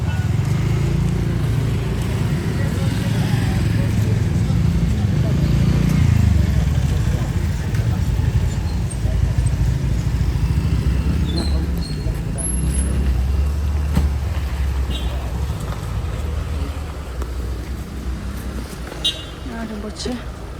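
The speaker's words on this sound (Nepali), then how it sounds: "हाम्रो यहाँ बाइकहरूले चाहिँ वेलकमिङ गर्दैछ" Motorcycles in a welcome procession for Singdup Rinpoche in Kalimpong make a loud, continuous low engine rumble with scattered horn toots, and voices murmur throughout.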